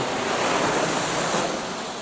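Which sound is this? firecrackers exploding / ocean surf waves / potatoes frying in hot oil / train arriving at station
ocean surf waves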